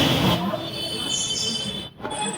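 A metro train runs close by, a loud steady rumble with high wheel squeal across the whole short stretch and a brief dip near the end.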